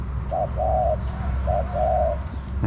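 A spotted dove coos in a steady low, mellow, mid-pitched phrase of several soft notes, close by, with quiet background hum and no talking.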